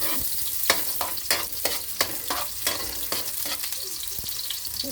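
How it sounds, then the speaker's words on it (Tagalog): Tofu frying in hot oil beside garlic being sautéed, with a steady sizzle broken by repeated sharp clacks of a utensil stirring in the pan, close and fairly loud. "habang nagpiprito tayo sa kabila gigisa tayo ng bawang habang nagpiprito sa kabila ng tukwa"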